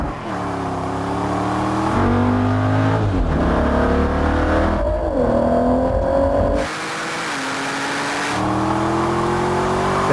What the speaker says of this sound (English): Let's do this drag race.